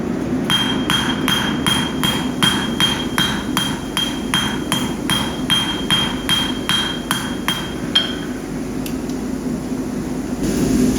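A hammer forging a knife blade from a leaf spring, striking in a fast, even rhythm of loud metallic blows for several seconds, then stopping, over a steady background hum.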